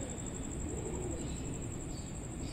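Soft cooing from a female pigeon among caught pigeons, faint and low beneath a steady background hiss, with no talking.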